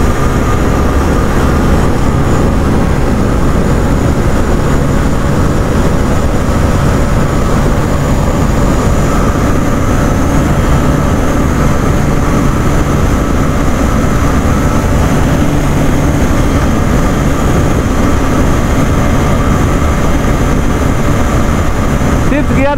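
A Hero Super Splendor BS6 motorcycle running in fifth gear at speed, heard as a loud continuous roar of engine and wind rush that stays steady throughout with no break.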